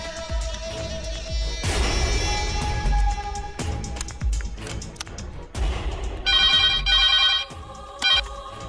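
A telephone ringing at a police station, with bright repeated ring tones sounding near and loud, mixed with thumps and clatter.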